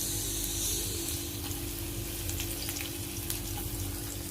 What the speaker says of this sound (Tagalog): Magigisa na tayo ng ating bawang.